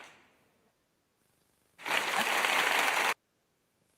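A short burst of applause sound effect, a dense clapping wash lasting a little over a second, loud and alone after near silence, then cut off abruptly.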